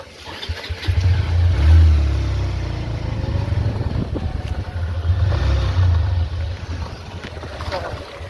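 A motorbike with some mechanical trouble runs nearby, its low engine rumble swelling and easing as it revs, with steady background noise throughout.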